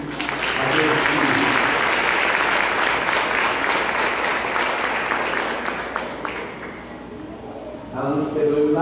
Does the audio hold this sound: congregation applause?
yes